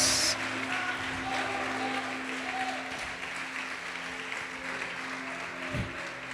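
A church congregation applauds in worship, a sustained wash of many hands clapping at mid-distance with a low hum beneath and a few brief thumps.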